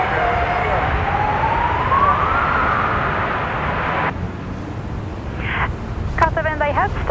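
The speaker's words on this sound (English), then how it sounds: "it's an ambulance. Loud old thing, isn't it?" An ambulance siren wails loudly at Brisbane Airport, a rising and falling tone over steady background rumble, then cuts off, followed by brief electronic chirps; people talk faintly nearby.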